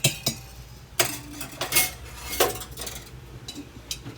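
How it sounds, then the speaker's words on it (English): A yogurt pot is set back into an Instant Pot with sharp metallic clinks and knocks, several irregular hits close by over a few seconds. "You're going to go ahead and put it back in your Instant Pot."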